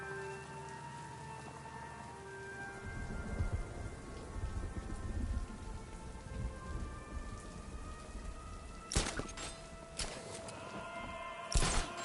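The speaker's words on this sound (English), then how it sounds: "What's with all the rain?" Steady rainfall patters across surfaces in the video game Batman: Arkham Knight, with a low rumble of distant thunder and a few sharp cracks near the end.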